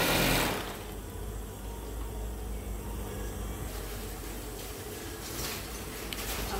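A sewing machine runs continuously, stitching skirt panels together with a steady mechanical whir and buzz, close up and without any talking.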